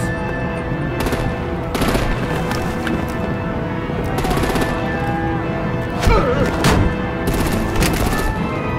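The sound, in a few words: gunfire and explosions in Batman: The Enemy Within video game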